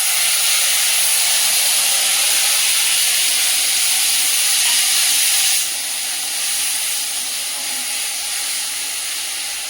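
Tomato sauce hits hot oil and fried chopped garlic in a wok, a loud, bright continuous sizzle that suddenly eases partway through and carries on more softly, no voices heard.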